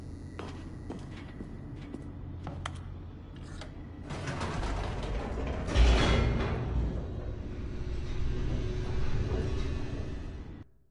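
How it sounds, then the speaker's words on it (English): Elevator in The Stanley Parable descending with mechanical creaks, sliding rattles and a low rumbling drone that swells and grinds louder midway before fading out. "The elevator raced downward, plummeting towards an unknown fate."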